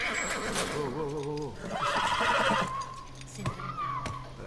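A horse in the video game The Last of Us whinnies loudly and shakily, followed by snorts and a couple of light hoof clops.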